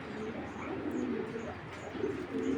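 Soft, low racing pigeon cooing repeats in gentle rolling phrases against a steady background hum.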